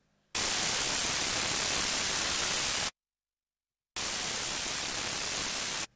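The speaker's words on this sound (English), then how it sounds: "Because white noise is all frequencies being swept really fast, it kind of gives that effect." Loud, dense white noise with a fast pitch LFO sweep hisses steadily, cutting out abruptly for about a second, then resuming at the same level until the end.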